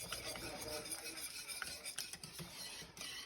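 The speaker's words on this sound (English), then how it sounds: "I have my wooden spoon for the wooden spoon test. And I'm just gonna stir this without making a mess." A wooden spoon stirs thickening Meyer lemon tart filling in a pot, producing soft, steady scraping and swishing strokes with faint clinks, quiet and close, with no talk over it.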